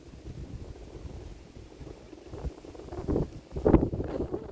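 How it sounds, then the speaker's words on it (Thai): Strong wind gusts buffet the microphone outdoors, rumbling low and swelling louder toward the end, with no voices present. "ลมยังหนักเลย"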